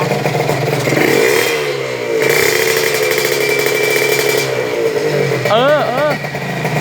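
A motorcycle fitted with an aftermarket exhaust pipe revs loudly and continuously nearby, its engine note rising and falling through the pipe, with someone talking over it.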